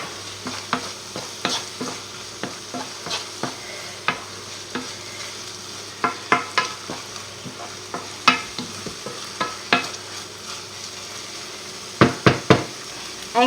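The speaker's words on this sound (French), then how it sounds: "Là, on remue." Herbs and pepper are stirred in a pan for a three-cheese soufflé. A utensil repeatedly scrapes and knocks against the pan in an irregular rhythm over a faint, steady sizzle, with sharper clustered clacks near the end.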